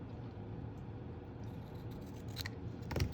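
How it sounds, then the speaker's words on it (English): Scissors trimming Pool Party cardstock for a paper craft: a quiet background hush, then two or three crisp close-up snips near the end. "Now, taking my scissors again, I will trim the Pool Party cardstock"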